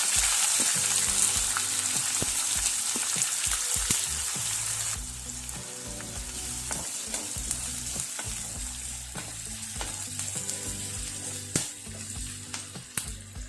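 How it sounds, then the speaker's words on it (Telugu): Mustard seeds, cumin, urad dal and chana dal crackle and fry in hot oil, then chopped onions go in; a loud continuous sizzle with popping and occasional scraping stirs, no voices. "ఆవాలు, జీలకర్ర, మినపప్పు వేసుకొని వేగించుకోవాలండి. ఇవి కొంచెం వేగిన తర్వాత ఉల్లిపాయలు వేయించుకోవాలండి."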